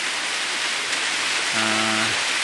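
Steady rain hisses as a constant wash of noise, with a brief low mechanical hum rising near the end.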